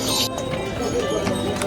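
Horses on the Kedarnath pilgrimage trail, about two kilometres below the temple, with steady hoof clip-clop under a constant crowd murmur and nearby voices throughout.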